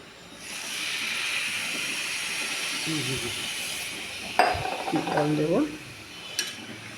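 Dalia frying in ghee with cardamom and potato for pulao gives a steady hiss and sizzle, followed by a brief louder burst and a few scraping clinks of stirring.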